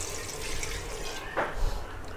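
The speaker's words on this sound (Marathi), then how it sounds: "आपण ॲड करूया आता यामध्ये पाणी," Water pours into a pot of mutton on the stove in a soft, short splashing gush against a low steady background, close by and without talk.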